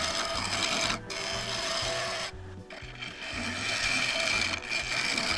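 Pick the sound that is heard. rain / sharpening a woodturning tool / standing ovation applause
sharpening a woodturning tool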